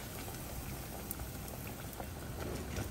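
Stuffed tofu sizzles in a shallow layer of oil, giving a quiet, continuous crackle and hiss with scattered small pops throughout.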